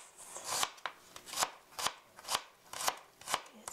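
Close, steady chopping of garlic with a kitchen knife on a cutting board for one-pot tomato fusilli, about eight sharp knocks in a quick, even rhythm, with no voices.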